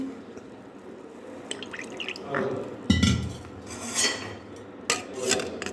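Homemade lemon juice being stirred in a kitchen vessel, with irregular clinks and scrapes of a spoon against the sides and soft liquid sloshing, louder bursts in the second half, no talk.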